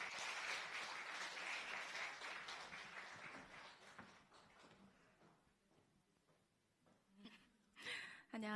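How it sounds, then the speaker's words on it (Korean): Audience applause in a church festival hall welcoming a North Korean defector guest, a dense loud wash of clapping that gradually thins and fades, followed by a few scattered claps and a brief burst near the end. "여러분 큰 박수로 모시겠습니다"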